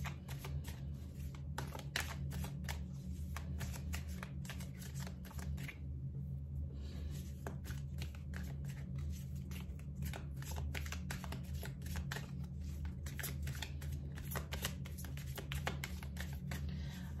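Oracle cards shuffled by hand for a love reading, a long run of quick, soft riffling flicks that goes on steadily and close by, with one brief pause partway through and no talk.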